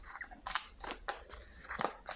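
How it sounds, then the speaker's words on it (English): Tarot cards being shuffled by hand: a series of crisp, papery riffling and flicking bursts at irregular intervals, close and distinct against a quiet background. "as I'm shuffling the cards"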